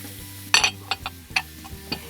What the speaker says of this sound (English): I'm going to saute some vegetables